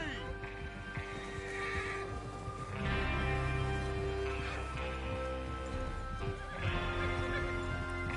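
A horse whinnies loudly over the steady clip-clop of hooves in Red Dead Redemption 2, with game-style ambience and some indistinct voices in the background.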